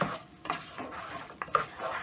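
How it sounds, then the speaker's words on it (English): Washed rice and meat being stirred together in a cooking pot for pilau, with a few distinct scraping clinks of the spoon against the pot amid soft rustling, close and fairly quiet. "Mix the meat together with the rice."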